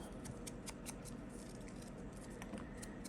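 Scissors snip paper labels in quick repeated cuts, faint and close, with small crisp clicks over a soft background hiss.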